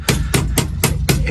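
Five sharp strikes of a Milwaukee hammer in a steady rhythm, close and loud, each a crisp metallic knock, while installing a cargo rack on a Jeep Wrangler.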